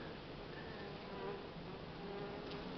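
Young Buckfast honey bees crawl over an open hive frame, giving a faint, steady insect buzz that hums continuously in the background throughout with no talking.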